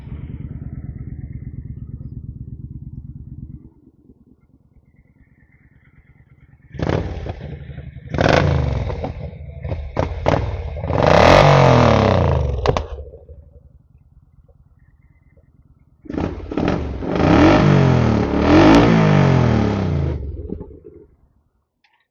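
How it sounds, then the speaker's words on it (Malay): A 2014 Kawasaki Vulcan 900 Classic, 49,000 km on the clock, rumbles at a low idle close by, then rises into two loud bursts of throttle revving with clattering mechanical noise before dropping back. "Kawasaki Vulcan 900 Classic bunyi dia macam mana."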